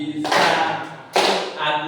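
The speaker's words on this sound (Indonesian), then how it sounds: "Bisa tepuk tangan." Students in a fisheries class clapping hands together on cue, two bursts of group clapping separated by a short pause, fairly loud and close, with voices mixed in.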